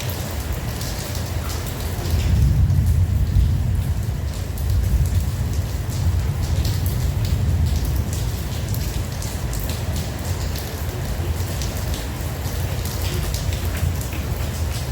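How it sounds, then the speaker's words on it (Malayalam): Heavy rain pours continuously in Abu Dhabi, a dense, loud wash of drops striking surfaces, with a low rumble swelling early on and no voices. "അങ്ങനെ നല്ല അടിപൊളി മഴ."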